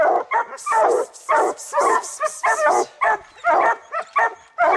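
Several hounds bark and bay at a treed bear in rapid, overlapping bursts, loud and close, with occasional yips and whines between the barks.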